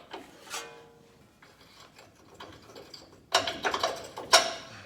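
Bolts are pulled and worked loose during a 2-inch front leveling kit install on a 2022 Ford F-150, with quiet metallic clicks and scraping early, then louder clanks and rattling bursts toward the end.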